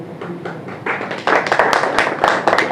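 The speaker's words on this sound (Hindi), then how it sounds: "हम सबको ताली बजाना चाहिए इसके लिए।" An indoor audience at a postal-week ceremony breaks into clapping, starting thin and swelling into fuller applause after about a second, steady and fairly close with no voices on top.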